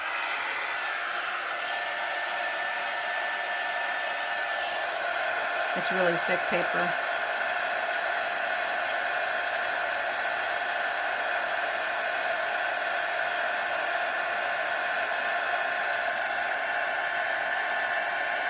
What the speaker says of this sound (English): the pearlized paper, I've never tried to heat emboss on this before